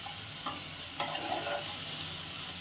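Spices and potatoes for a duck egg curry are stirred and sautéed in a pan. A soft, steady sizzle runs under two or three brief scraping strokes, close but quiet, with no talking.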